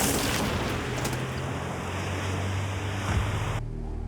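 Strong wind roars without a break during an ice storm with heavy, sticky snow. The gusting rush is loud and close and fills the whole clip with buffeting noise, then cuts off near the end.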